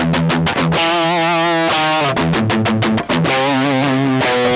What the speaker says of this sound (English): crispy, golden, delicious DI guitar sound that we want to mitigate as quickly as possible